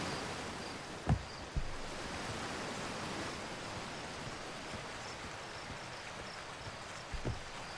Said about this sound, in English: another really loud waterfall.